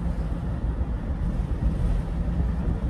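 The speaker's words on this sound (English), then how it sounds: "It's really windy." Loud, constant rushing wind through the open windows of a Chevrolet Silverado EV RST pickup, buffeting the microphone, a low roar that never lets up, with no talking.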